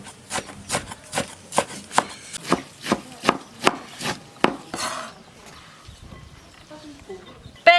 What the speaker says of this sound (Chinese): 切碎拌到肉馅里